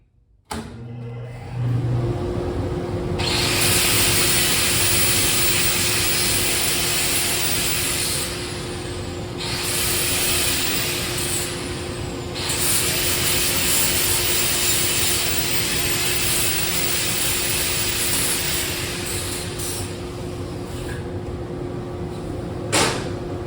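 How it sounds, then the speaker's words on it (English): An old LP tank being ground gives a long, harsh, continuous metal-grinding roar, close and loud. It dips briefly a few times as the grinder lifts and shifts, then carries on steadily to the end. "Maybe a touch of grinding on there."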